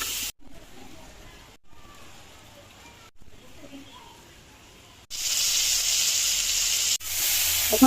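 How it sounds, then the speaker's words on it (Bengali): Potatoes frying in a pan in a home kitchen, a steady sizzling hiss that swells sharply louder partway through and holds, close to the pan. "এখন আলুগুলোকে আমি একটু ভাজা নিতেছি"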